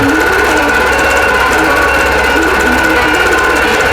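Computerized quilting machine stitching out a quilt block, a loud, relentless rapid needle chatter with a steady motor tone, close and unbroken throughout.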